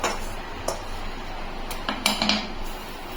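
A knife cuts rolled sweet gaja dough into four pieces, giving a few sharp clicks and taps of the blade against the board, close and otherwise quiet.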